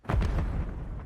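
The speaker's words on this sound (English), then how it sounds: "I hear a bomb." A bomb blast in a Call of Duty match (Treyarch) booms out as a loud, close, low rumbling burst that swells quickly and then rolls on into a sustained, fading roar over about a second.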